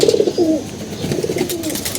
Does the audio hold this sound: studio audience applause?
no